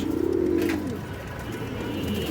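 A red Muslodom male pigeon gives one clear, close, rolling coo that swells and then falls away. It is followed by quieter low cooing and a soft hum in the background.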